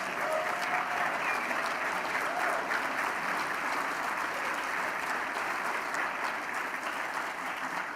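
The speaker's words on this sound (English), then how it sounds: "Stand up, give him a round of applause." Sustained convention applause from a standing dinner audience at the NRB annual convention, a dense, continuous roar of many hands filling the room evenly for several seconds.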